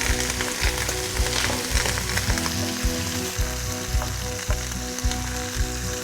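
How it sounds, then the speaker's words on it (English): Steady, crackling sizzle of duck pieces frying in a bit of hot oil, with occasional soft knocks of stirring, close and continuous. "Just fry the duck pieces in a bit of oil."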